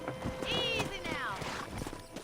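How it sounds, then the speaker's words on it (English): Horse hooves clip-clop at a steady walking rhythm in Red Dead Redemption, with a whinny rising and falling midway through, close and moderately loud beneath a voice. "Breaking in horses."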